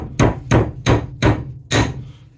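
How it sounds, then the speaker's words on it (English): A hammer drives a shaft into a South Bend Model 9A lathe gear box, five sharp metallic blows at a steady rhythm, close and loud with brief ringing after each strike and no talking. "Take your hammer,"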